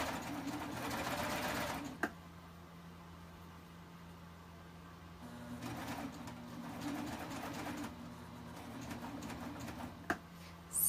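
Baby Lock serger stitching around a legging hem, a fast steady mechanical whir that runs in bursts, separated by a couple of sharp clicks and quieter pauses.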